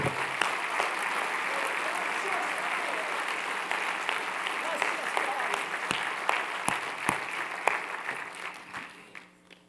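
Sustained audience applause fills a church, a dense steady wash of clapping that runs loud throughout and thins out toward the end with a few scattered claps.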